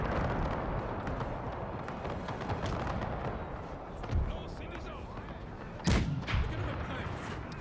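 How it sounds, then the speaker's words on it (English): Booming cannon volleys from a Napoleonic-era battle in Napoleon: Total War, with two heavy thumps standing out over a dense, continuous roar of battlefield noise and distant gunfire. "the cannon shots are going through the 5th"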